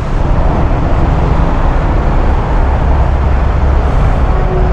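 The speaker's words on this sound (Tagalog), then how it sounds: "traffic." Road traffic with cars and large trucks gives a loud, constant rumble of engines passing nearby, a steady wash of noise with no clear breaks and no voices.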